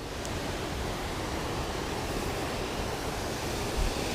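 A waterfall in a nature park trout stream rushes in a dense, unbroken roar of white noise, steady and close with no voices over it.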